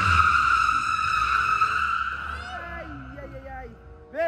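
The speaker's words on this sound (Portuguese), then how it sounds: "Pelo menos alguém sabe fazer um drift" A car's tires squeal in a long, loud, high-pitched skid that fades out, followed by a second shorter squeal, while people talk nearby.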